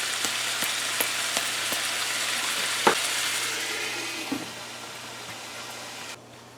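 Stewed pork simmers and fries in a covered pot, a steady close hiss with a few soft knocks and pops, gradually quieting near the end.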